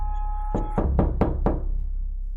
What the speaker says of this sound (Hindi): दरवाजे के पास पहुंचते ही सोन दरवाजे को खटखटाता है।